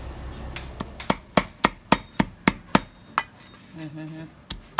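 A knife chops pork sharply on a board in a fast, steady run of about a dozen close strikes, then a pause and a couple more hits.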